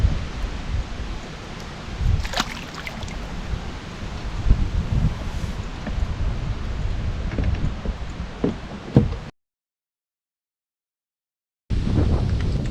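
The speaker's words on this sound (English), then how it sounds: "As you can hear, the wind is really starting to gust, and we're in a protected area, but that wind is really starting to gust over 25 miles an hour." Strong wind gusts over the water of the Upper Chesapeake Bay during a kayak fishing outing, making a loud, rumbling roar against the microphone. The wind cuts out briefly into silence, then resumes.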